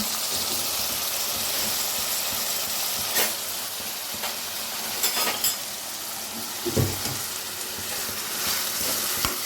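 Sliced onions with turmeric and salt frying in a pan, a continuous close sizzle with soft stirring scrapes and a few louder clacks of a spoon, no voices.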